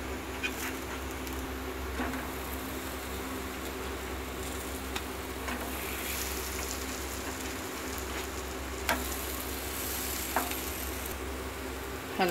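Varat cutlets frying in shallow oil in a pan on a gas stove, a continuous soft sizzle with scattered light pops and ticks, steady and close.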